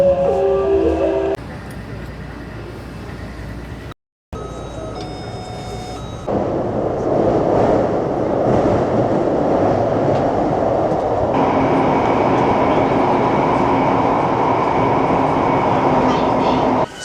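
Riding a Taipei metro train: rumbling carriage noise and rail hum with a few brief chime-like tones early on, then a steady louder running roar through the rest of the ride.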